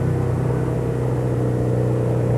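Aprilia racing sidecar engine on the Dakar rally, a steady droning mechanical hum with a low rumbling undertone, continuous and fairly loud, with no talking.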